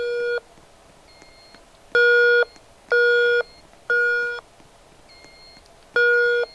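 Fire alarm tone from a Roblox EST voice evacuation system with a Firecom 8500 panel: loud, steady electronic beeps in a regular pulse of about one per second, each a harmonic-rich tone, with a few quieter tones between them.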